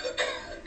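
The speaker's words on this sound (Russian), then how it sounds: "Видите, там сигарету положил, все, начинается кашель." A novelty coughing ashtray sets off a short burst of electronic coughing when ash is tapped into it; two rough cough bursts sound close up and moderately loud.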